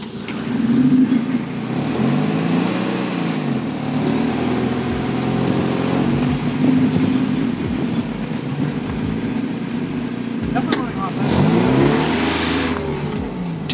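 A tractor-style engine revs hard at high RPM while riding around the block, a loud sustained roar with rising and falling pitch sweeps near the start and again toward the end, no talking.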